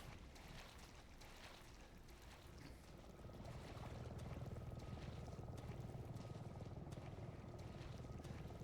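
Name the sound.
helicopter in Resident Evil 7 video game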